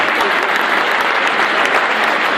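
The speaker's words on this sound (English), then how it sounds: "Give a big round of applause" A crowd at a boxing event in Bristol applauds a welterweight champion, loud, dense and continuous clapping from many hands filling the space.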